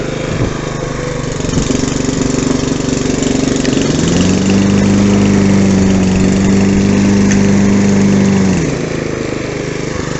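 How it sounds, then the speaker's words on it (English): A Honda HRB 535 lawn mower engine runs steadily and loud, its pitch shifting partway through to a deeper, steadier drone before settling again. "So that changes the engine noise."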